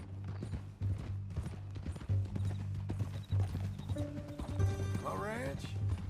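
Horse hooves clip-clop in a steady rhythmic walk in the Western game Red Dead Redemption 2, with a horse whinnying near the end while characters talk over the hoofbeats.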